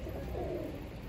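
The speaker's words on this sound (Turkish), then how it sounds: "Ya çok enteresan kuşlar geliyor ya" A single brief, soft pigeon-like coo close by, low and muffled against a steady background hum.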